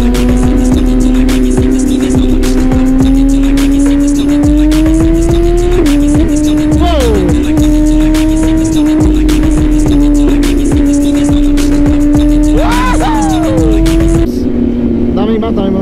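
BMW S1000RR sport bikes fitted with SC-Project titanium exhausts idle and rumble loudly up close, with sharp throttle blips rising and falling over a steady engine drone, while people chat nearby.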